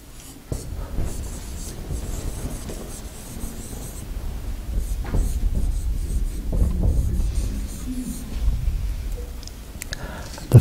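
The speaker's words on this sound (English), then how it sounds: "So I'll write it on the board." Marker or chalk writing on a board during a retreat talk, soft scratchy strokes and rubs in irregular bursts, close and moderately quiet, with faint room murmur.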